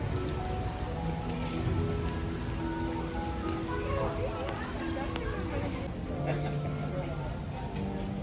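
Steady rain patters on a surface throughout at Gardens by the Bay, Singapore, with people talking over it.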